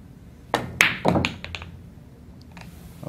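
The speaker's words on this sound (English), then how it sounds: "But first we're going to shoot a center shot and just try to make the ball." A cue tip strikes the center of a pool ball for a straight-in shot, giving a few sharp, close clacks and thunks in quick succession around the half-second mark, then a quiet table room.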